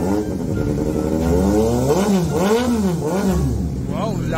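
A motorcycle fitted with an Austin Racing real titanium exhaust revs repeatedly, several rising and falling throttle blips over a steady loud idle, close up.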